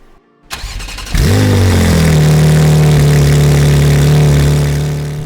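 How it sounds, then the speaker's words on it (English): A Porsche 911 Carrera S engine cranks on a cold start and catches after a brief silence, then settles into a loud, steady idle with a deep rumble that holds to the end. "Let's start the 911 and see how it sounds on a cold start."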